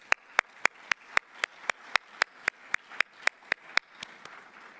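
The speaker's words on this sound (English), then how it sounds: "Let's give them a round of applause," Sharp, evenly spaced claps, around eighteen in a steady rhythm, ring out close and crisp at an awards gala honoring recipients. Only a faint murmur sits beneath, and the claps soften near the end.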